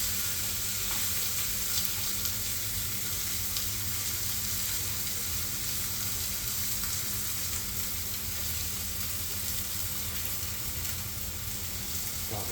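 A ribeye steak sizzles fat side down in a pan as the fat renders, a steady, even frying hiss heard close and alone.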